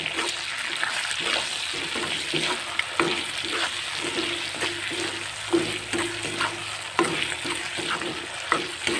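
Pork frying in a pan with pounded ginger, garlic and chili paste, a steady close sizzle with repeated stirring scrapes and clicks running throughout, no voices.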